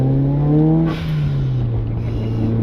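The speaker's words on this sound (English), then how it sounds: "see that turbo spools up so quick" A Mitsubishi Evo engine revs hard close by, its turbo spooling up in a steady rising whine before the pitch eases back down, loud and continuous with no voices.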